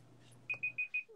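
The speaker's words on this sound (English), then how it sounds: "That's the timer." A timer alarm beeps four times in quick succession, short sharp electronic tones in an even rhythm, close and clear after a low background hum.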